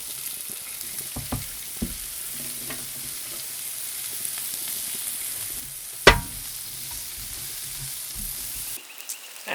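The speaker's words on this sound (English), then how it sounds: "then I'll throw on the onions" Onions sizzle steadily in steak drippings on a Weber Q griddle, with a continuous close frying hiss, a few spatula taps and stirs, and one sharp scrape near the end.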